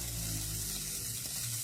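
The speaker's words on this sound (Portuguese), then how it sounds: "Aqui eu já dourei o alho e aí eu vou juntar 1 kg de peito de frango" Browned garlic and 1 kg of cooked, shredded chicken breast sautéing in a pan for a chicken pie filling, a continuous close sizzle with soft stirring.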